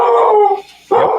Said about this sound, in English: Excuse my dogs in the background.